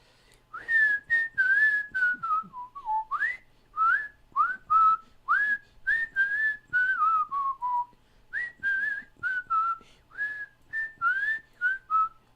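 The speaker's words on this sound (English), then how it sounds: "Handsome man can whistle." A man whistles a clear, melodic tune with many short, sliding notes in steady phrases. It sounds close and fairly loud, with no talking.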